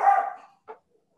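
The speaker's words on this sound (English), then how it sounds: "that's my dog loving what I'm saying." A pet dog gives one loud, close bark that trails off, then a short, quieter yip after a brief pause, in an otherwise quiet room.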